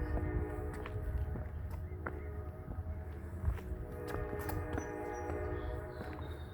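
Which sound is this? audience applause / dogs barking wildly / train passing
train passing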